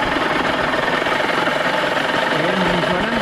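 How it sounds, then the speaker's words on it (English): An outboard boat engine runs in a test tank, fitted with a kill cord, giving a loud, steady, rough idling rumble with a rapid knocking pulse that continues without pause. "engine's running."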